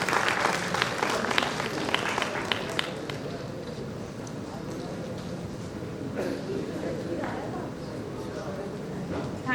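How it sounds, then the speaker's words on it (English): Sustained applause from a large crowd at a pharmaceutical conference fills the room, steady and dense throughout, with occasional voices mixed into the clapping. "A big round of applause, everyone."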